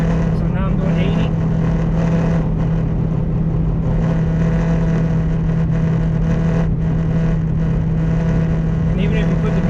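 Steady, loud roar of wind and road noise inside a Jeep Grand Cherokee cruising at about 80 mph, with a constant low drone and no change in pace, heard from the cabin.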